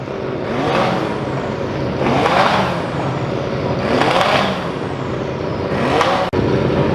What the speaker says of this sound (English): we've got the proper drift cars now